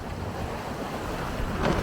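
Steady wind of about 10-12 knots rushing across the microphone with waves washing against a sailing boat's hull at sea, continuous and fairly loud, building slightly at the end.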